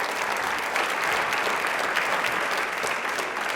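Loud, steady audience applause fills a television quiz-show studio from start to finish, dense and sustained with no voices over it.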